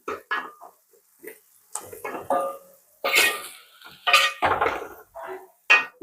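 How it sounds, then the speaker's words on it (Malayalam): Onions being sautéed in a pot, heard as a spoon clanking and scraping against metal in short, uneven bursts with quiet gaps between them, plus a brief throat-clearing sound. "സവോള വഴറ്റി"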